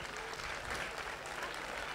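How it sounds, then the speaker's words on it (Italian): Applause from an audience at a tourist festival with a sausage and cheese fair. The clapping is a steady, dense patter of many hands, fairly faint and even throughout, with no voices standing out. "Facciamo un applauso"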